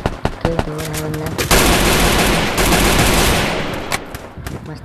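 Loud, rapid gunfire from the mobile shooter Free Fire, sharp single shots giving way to a long dense automatic burst that tapers off, with game sound effects around it.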